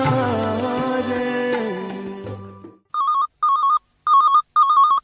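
As music fades out on a radio phone-in request show, a telephone rings in four short electronic bursts with even gaps between them, clear and close.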